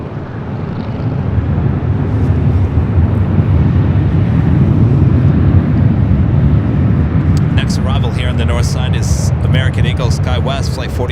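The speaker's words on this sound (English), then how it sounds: "Skywest flight 4867 coming in from Bentonville, Arkansas. It's an E175LR" A Skywest Embraer E175LR jet arriving at LAX, a loud, steady low engine roar with wind rumble throughout, joined near the end by someone talking over it.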